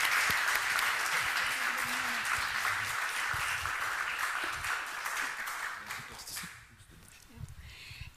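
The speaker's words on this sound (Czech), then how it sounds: "Zatleskejte jí." An audience at a family-themed public discussion gives the speaker's wife sustained applause, a dense crackle of many hands that carries steadily, then thins and dies away in the last couple of seconds.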